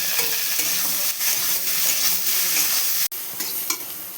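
Beans frying in a pan over medium heat give a steady, close, continuous sizzle, with occasional stirring scrapes and a sharp brief dropout near the end.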